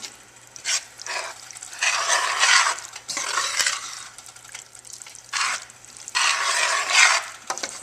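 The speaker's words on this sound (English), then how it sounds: "Just keep stirring so you don't" A spoon scrapes and swirls a roux for seafood gumbo around a pot in repeated, irregular passes, with faint sizzling and brief pauses between strokes.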